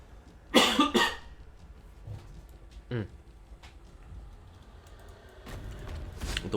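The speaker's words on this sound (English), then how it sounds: "Oh, I got a cough." A man coughs a couple of times close to the mic, with computer keyboard typing and clicks around it and quiet room noise between.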